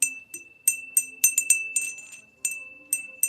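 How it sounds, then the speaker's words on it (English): A small hand bell rung in irregular bursts: a bright, sustained tone with about a dozen quick metallic strikes that ring out and fade between shakes, close and clear with no voices. "Y'all like my bell? This is my divine feminine bell."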